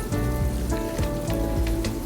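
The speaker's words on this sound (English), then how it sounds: "your chicken should be frying no more than 10 to 12 minutes" Southern fried chicken pieces frying in hot oil, a dense, steady crackle and sizzle like rain on a surface, heard up close with no voices.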